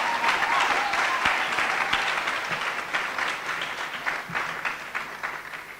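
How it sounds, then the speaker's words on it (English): An audience at a Lambeth keynote event bursts into sustained applause, a dense wash of many hands clapping that starts loud and gradually thins and fades toward the end. "Give yourself a round of applause."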